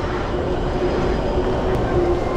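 A rapid service train to Tokyo rumbles into Shinjuku station during the morning rush with a steady low roar and faint squealing tones, continuous and fairly close, with no talking.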